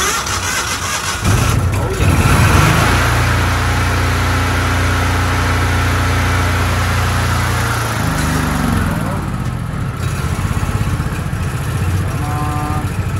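A small engine is started with the choke on, cranking and catching into a steady loud idle for several seconds before the pitch shifts, while a person speaks briefly.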